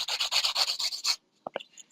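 A nail file rasps by hand across a fingernail in a quick run of about nine short even strokes, close and alone, followed by a pause and two faint light taps.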